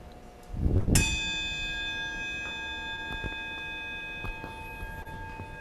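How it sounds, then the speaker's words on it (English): A single struck bell during a Unitarian Universalist Sunday service rings out clearly once, then its bright tone hums and slowly fades through a long, quiet decay in the hushed room. "Let's follow this beautiful bell into a few minutes of silence."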